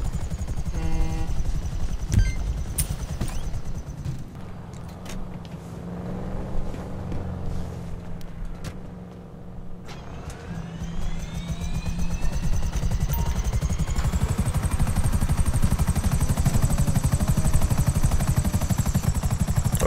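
A helicopter in the video game GTA 5 drones steadily throughout at loud, near level, its rotor and engine noise swelling slightly in the second half, with no talk over it.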